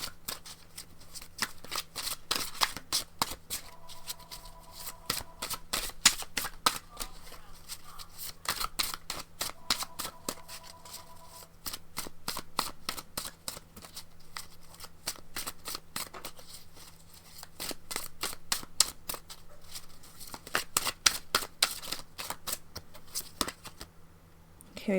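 Oracle cards shuffled by hand, a long run of fast crisp riffling flutters in repeated bursts close up, with a steady low hum underneath.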